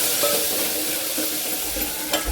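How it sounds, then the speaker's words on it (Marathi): Onion and coriander sizzling in hot oil in a pan, with a steady hiss and occasional scraping stirs of a spatula. "कोथंबीर टाकून आपण आता छान परतून घ्यायची आहे"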